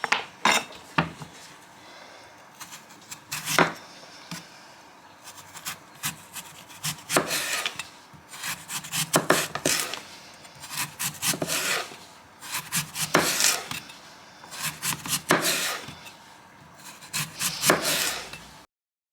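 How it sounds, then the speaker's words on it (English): A knife slices through sweet potato on a wooden board in a home kitchen, with repeated short scraping cuts at an uneven pace, close and fairly crisp, and no voices. "now I'll slice the rest of it"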